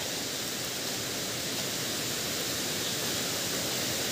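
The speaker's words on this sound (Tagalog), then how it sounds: "Napakalakas ng busay dito." A strong waterfall rushes steadily and loudly up close as a dense, unbroken roar of water that holds the whole time with no voices over it.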